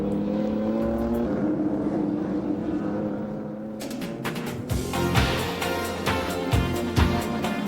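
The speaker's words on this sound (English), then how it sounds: "Larry Perkins closing all the time on Alan Grice as they come down the long Calder Park front straight" Touring cars racing down the long front straight at Calder Park in 1987, engines roaring loudly and continuously as cars close on each other, with sharp gear changes and surging revs.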